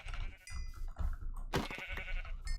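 Blocky sheep in the modded Minecraft pack Omnifactory bleat in short game-sound calls, a couple of distinct bleats over a faint background.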